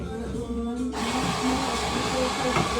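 An espresso machine's steam wand hisses into organic milk at a barista training institute. The steady, loud hiss grows fuller partway through the clip and carries on under a busy room.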